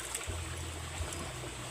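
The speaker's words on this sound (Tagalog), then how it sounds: "Sarap talaga maligo sa ilog o sapa." Stream water rushes in a steady, even wash of noise, with a low hum rising briefly underneath.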